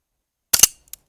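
A Sig Sauer 1911 CO2 4.5mm air pistol fires its last pellet as one sharp, close pop with a quick rattling tail, then a faint click, in otherwise silent surroundings.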